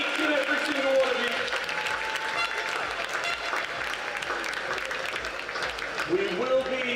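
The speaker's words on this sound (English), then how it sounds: "A round of applause for all of the athletes who competed across both divisions today" Applause from spectators at the GoCardless Swim England National County Team Championships 2025 swimming meet, a steady, dense clatter of clapping echoing through an indoor pool hall, with some crowd voices mixed in throughout.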